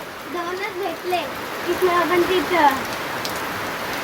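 Heavy unseasonal rain pours down steadily as a dense, close hiss in the Konkan countryside, while voices talk over it.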